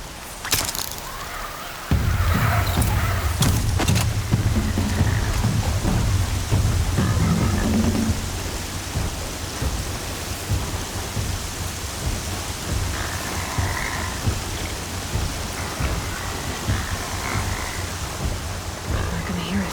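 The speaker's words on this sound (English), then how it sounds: "I'm not gonna hear a thing over the storm." Thunderstorm with heavy rain in Horizon Zero Dawn, a loud thunder crash opening into a steady downpour that roars on, with faint talk underneath.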